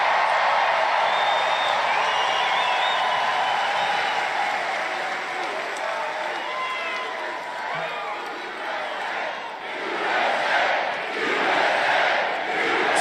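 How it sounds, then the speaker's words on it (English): An excited political rally crowd cheers and applauds in a continuous roaring wash of claps and whoops, swelling toward the end, with a voice speaking over the noise. "So the crowd is very excited by it"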